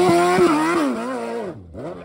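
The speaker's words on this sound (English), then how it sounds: "I just looped out the Hayabusa at the top of Hell's Gate." A Suzuki Hayabusa motorcycle loops out on the Hell's Gate rock climb in Moab, Utah, with a loud, close engine howl whose pitch rises and dips over about two seconds before it suddenly drops off.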